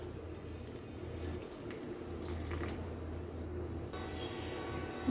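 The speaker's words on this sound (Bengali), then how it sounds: "এবার এর ভিতর দিয়ে দিব কিছুটা জল" Water pours steadily from a tap into a pan of frying kakrol (spiny gourd), giving a continuous splashing stream close by with no voices.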